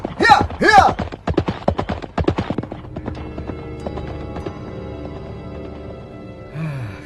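Horses carry riders away at a trot, loud close clip-clopping hooves in a quick rhythm that fades into the distance, followed by a steady low ambient hum and a short sound near the end.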